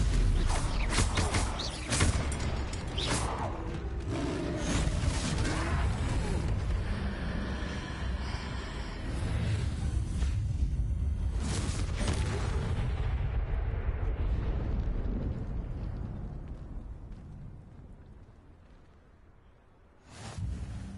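Spell impacts and explosions burst in the video game Hogwarts Legacy during a fight with a troll, loud dense crashes and rumbles that fade to near silence before one last hit.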